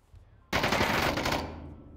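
A short, loud burst of rapid automatic rifle fire in the VR shooter Onward during a competitive match, starting abruptly and tailing off with echo.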